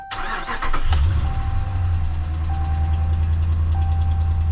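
A 2014 Ram 1500 Sport quad cab pickup engine cranks and fires up with a burst, then settles into a steady, loud idle rumble with a faint high whine.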